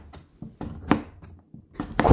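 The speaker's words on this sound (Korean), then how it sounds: "이렇게 왼손으로 칼을 눌러서 썰었습니다." Sweet potato cut skin-on with a kitchen knife pressed down left-handed, giving several separate crisp chops and thuds at an irregular, slow pace, close and fairly clear with no talking.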